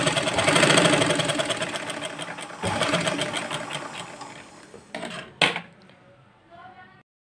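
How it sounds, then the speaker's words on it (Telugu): A sewing machine stitches tucks on a blouse, its motor running in a steady, close whirring drone that dips briefly, then slows and stops near the end with a few sharp clicks. "నేను పెద్ద టక్స్ ఎదురు ఇలా కుట్టుకుంటున్నాను."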